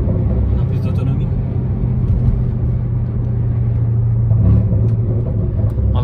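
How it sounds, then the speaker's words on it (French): Mercedes C63 AMG Brabus 650 V8 with Stage 2 engine tuning, a deep steady rumble that swells slightly near the end and runs continuously throughout. "Petite mélodie du V8, plutôt grande mélodie du V8, 650 chevaux quand même"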